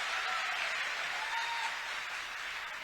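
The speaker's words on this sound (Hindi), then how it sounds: "इस पे ताली जरा जोर से बजाओ।" Audience applause at a Bhopal good-governance event attended by the chief minister: a steady, dense wash of clapping from a large crowd, sustained throughout at a fairly even level with no clear speech over it.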